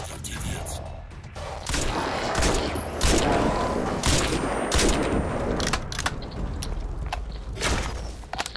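Rapid bursts of gunfire in Crysis 2 crackle repeatedly, dense and loud, with short pauses between volleys.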